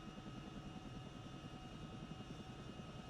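In a flight simulation game, an aircraft lifts off from the active runway with a steady low engine and rotor drone that stays constant and fairly quiet, with no talking.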